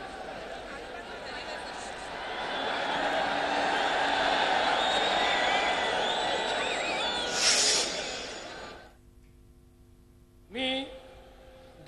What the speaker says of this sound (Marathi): देवेंद्र फडणवीस आणि त्यांच्या पत्नी अमृता यांना तिथल्या स्क्रीनवरती पाहिल्यानंतर जोरदार जल्लोष या ठिकाणी होत होता